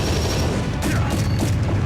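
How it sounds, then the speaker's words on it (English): A grenade blows up in a Super Smash Bros. Brawl match, giving a loud, dense crash with a few rattling bursts that follow in quick succession over a steady noisy bed, with no talk. "jumps into his own grenade, takes the stock"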